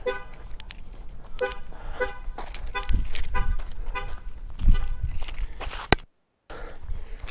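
A 2019 Ford F250 Super Duty truck horn gives short chirps as the key fob locks and unlocks it from the far end of a driveway, heard at a distance as a few brief toots amid outdoor background noise and footsteps.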